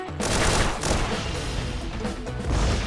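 Rapid gunfire bursts ring out during a tactical battle in the video game Persona 5 Tactica, a dense, loud, continuous volley with booming low thuds running throughout, no voices over it.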